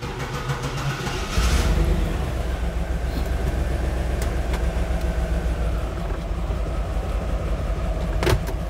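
An old childhood dream car, a used classic, creeps forward with a steady low engine rumble, its mechanical rattle and drone rising slightly as it gets moving, heard close up with no voices.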